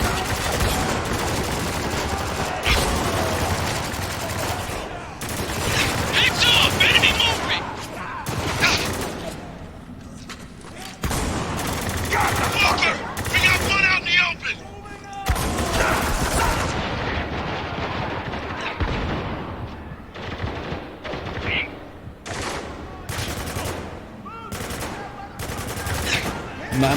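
Heavy gunfire in Spec Ops: The Line: sustained machine-gun bursts and booming impacts in intense, overlapping volleys, close and loud, with brief lulls between clusters and voices shouting over the combat.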